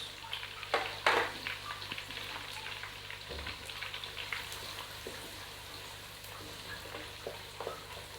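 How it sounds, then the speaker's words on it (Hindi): Chopped onion and whole dried red chillies frying in a pan of oil for saag, a soft continuous sizzle with a few crackling pops, quiet and close, no talking. "ये मैं इसमें डाल दूँगी जी सुरख मिर्च साबित"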